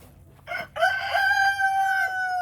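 An aggressive homestead rooster crows once up close, a loud drawn-out cock-a-doodle-doo after a couple of short clucks, ringing clearly with little else around it.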